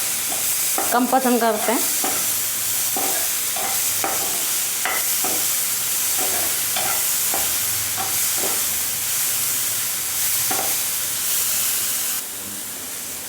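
Vegetables are stir-fried in a pan for white sauce pasta, with a loud, constant sizzle and repeated scraping and stirring strokes. A voice speaks briefly early on, and the sizzle drops a little near the end.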